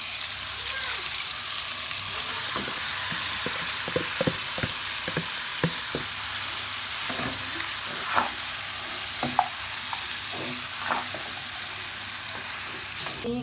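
Beef pieces fry in a pan with a loud, continuous sizzle, punctuated by a series of sharp stirring knocks and scrapes against the pan, with no talking heard.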